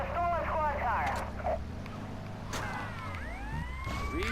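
A police car siren in the video game GTA Vice City rises and falls in sweeping wails over heavy engine rumble and music, closer and louder in the second half, with a voice talking over it.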